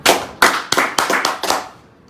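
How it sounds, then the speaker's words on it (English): A single person clapping close to the microphone during a live broadcast, about seven sharp claps in a steady rhythm, with no talking over them. "Big round of applause for you."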